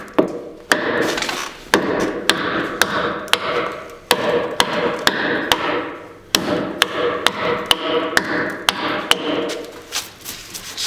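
Hatchet chopping into a dense decorative wooden beam while hand-distressing it: a steady series of sharp, close thwacks about two per second, with rough scraping of wood between strikes.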